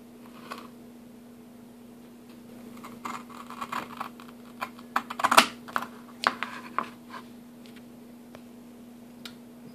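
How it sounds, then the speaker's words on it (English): Blades cut a scouring pad into roughly one-inch squares, making faint, irregular crisp snips and clicks in a quiet room. A denser cluster of cuts comes midway. "we're going to cut the scouring pad into 1-inch squares approximately"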